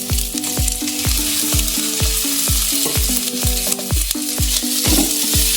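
Chopped tomatoes hiss and sizzle in hot oil with ginger and garlic in a pan for a dhaba-style egg tadka, while a utensil clinks against the pan in a steady, regular stirring rhythm.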